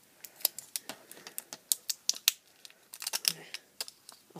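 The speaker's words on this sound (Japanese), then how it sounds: "シールどっから剥がすのかな。 こっからですね剥がします。" Backing sticker peeled off a sticky lint roller: a quick series of close, crisp crackling and tearing snaps, irregular in rhythm and denser toward the end.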